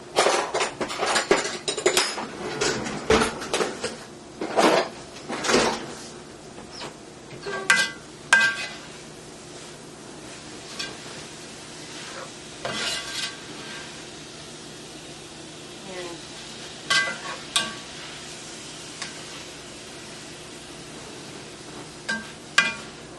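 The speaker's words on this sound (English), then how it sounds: "let me get a spoon because I want to get those peppers all mixed around" A spoon stirs sautéed lemon herb kale and peppers in a pan, giving repeated metallic clinks and scrapes at an uneven pace against steady background hiss.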